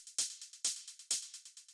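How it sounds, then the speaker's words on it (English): Layered shaker and hi-hat percussion in an acid-style techno groove: three bright accented hits land evenly, with quieter crisp ticks filling the gaps between them in a steady, dry, close pattern. "the last thing we have in this percussion group is the shaker / hi-hat combo"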